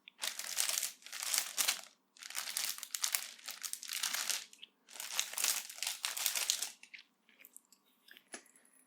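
Loud, close crinkling of plastic packaging around a large tote bag, in several bursts of rustling separated by short pauses, fading to a few quiet handling sounds.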